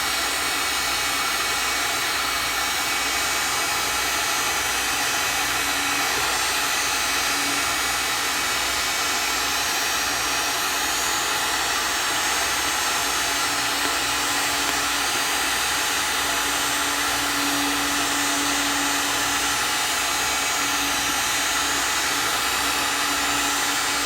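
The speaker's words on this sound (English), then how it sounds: "I'm just going to use Mr. Heat Gun. Put on high power. That'll melt the solder a little quicker" A heat gun on high power blows hot air onto an old alarm-system circuit board to melt solder, producing a loud, constant rushing roar that continues unbroken throughout, close to the microphone.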